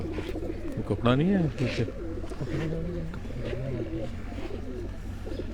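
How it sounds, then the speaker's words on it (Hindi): Breeder pigeons on a rooftop coo in low, rolling calls close by while someone talks over them, with a constant background hum. "ये दोस्तों ब्रीडर कबूतर हैं सारे इनके"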